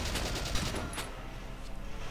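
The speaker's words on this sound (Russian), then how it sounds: "Неплохо, 7 выстрелов." Rapid bursts of video game gunfire from Valkyria Chronicles crackle continuously at moderate volume, a dense rattling barrage with a faint high whine near the start.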